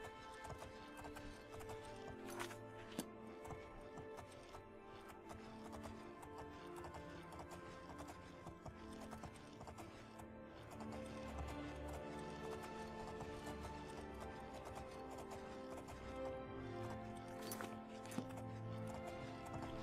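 Rhythmic horse hoofbeats clip-clop steadily in The Elder Scrolls IV: Oblivion under a layered game soundtrack, with occasional whooshes and effects; the pace stays brisk throughout.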